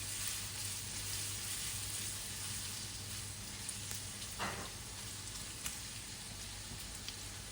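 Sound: garlic sizzling in pan

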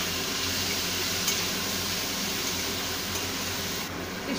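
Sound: stirring food in a pan

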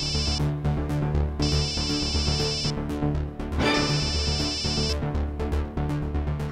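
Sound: mobile phone ringing

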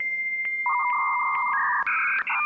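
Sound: dial-up internet modem connecting

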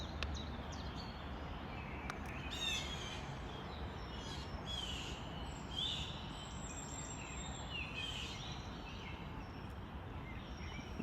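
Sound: birds and chicks calling

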